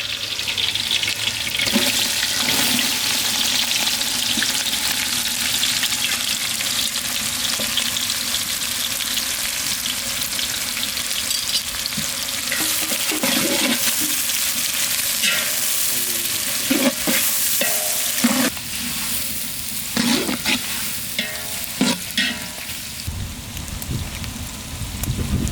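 Onions and green chillies frying in oil in a village kitchen pan for quail biryani, a continuous loud hissing sizzle with intermittent scraping and stirring clatters throughout.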